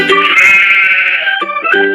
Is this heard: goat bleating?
yes